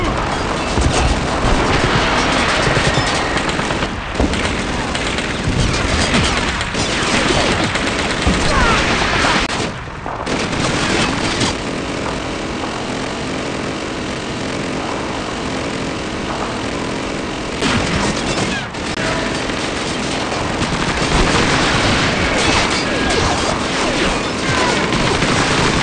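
Gunfire in a battle in the video game Call of Duty 2 on a Snapdragon 680 device, with loud, continuous bursts of rifle and machine-gun fire, booms and aircraft noise, and shouting voices heard briefly amid the din.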